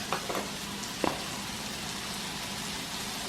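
Onions cook in a pan for an authentic Spanish breakfast, giving a steady soft sizzle with a few brief pops and crackles near the start.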